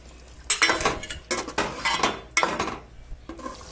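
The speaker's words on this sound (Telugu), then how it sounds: "ముందుగుండా వేయించి పెట్టుకున్న గుడ్లు కూడా ఇందులో వేసి కొద్దిసేపు ఉడికించుకోవాలి" Fried eggs going into biryani masala in a metal cooking pan, heard as several loud clattering scrapes and clinks of a spoon against the pan in quick bursts, close by, with no talking.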